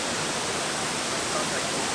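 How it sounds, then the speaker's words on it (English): Kawasan waterfall in Cebu, Philippines: a steady, dense roar of falling water that fills the whole clip without pause, close and fairly loud, with no other sound standing out. "Wicked, really nice waterfall and stuff."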